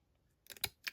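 Scissors snipping paper for a craft project, three quick, crisp cuts close up in the last half second after near silence.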